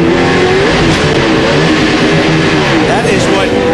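A NASCAR stock car at Kansas Speedway in 2004 suffering an engine failure under green flag racing, loud harsh engine roar with shifting whining pitch as cars pass, under a commentator's excited talk.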